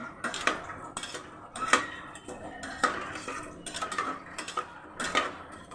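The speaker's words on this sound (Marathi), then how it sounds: "आता चांगलं मिक्स करून घ्यायचं." A spoon scrapes and clinks against a cooking pot while rice is stirred for masale bhat, in short, irregular bursts of metallic scraping a few times over several seconds, close and fairly quiet, with no talk.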